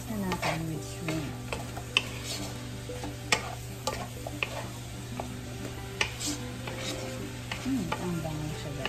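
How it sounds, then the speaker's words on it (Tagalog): Salted shrimp being stirred in a hot pan for a pansit canton, with steady frying sizzle and repeated scraping, clicking stir strokes of a utensil, close and continuous, with no voices. "Mix na natin with shrimp."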